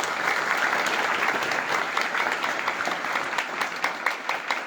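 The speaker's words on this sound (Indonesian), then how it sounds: "Tepuk tangan untuk ini." An audience at a motivational talk applauds steadily. Dense clapping from many hands holds at an even level for several seconds.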